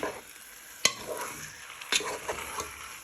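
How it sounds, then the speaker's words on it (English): Chicken frying in a pan for lemon and garlic chicken, a gentle close sizzle broken by two sharp utensil clinks and a few stirring scrapes, with no voices. "we're just frying our chicken for a few minutes, 3 to 5 minutes, so they go nice and brown"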